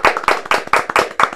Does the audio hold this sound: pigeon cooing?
no